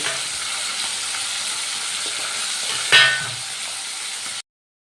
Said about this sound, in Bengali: এবার আমি পমফ্রেট মাছগুলো একটু উল্টে পাল্টে ভেজে নেব